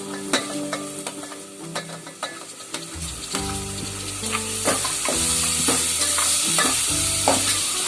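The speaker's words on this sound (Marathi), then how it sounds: "आता ते टॅमॅटो टाकते। हे 2 टॅमॅटो घेतलेत मोठे।" Two large tomatoes fry loudly in a pan with pulao spices for paneer matar pulao, a constant sizzle broken by repeated metallic spoon scrapes and clinks that grow busier and louder partway through.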